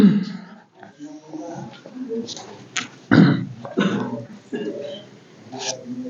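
A man coughs and clears his throat in several rough bursts mixed with other voices talking nearby.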